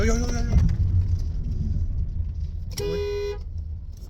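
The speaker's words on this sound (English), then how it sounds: "It's like the engine itself is not very smooth." A Honda van's engine runs unevenly on a test drive, a steady low rumble filling the cabin. A short car-horn toot sounds partway through, and a voice is heard briefly at the start.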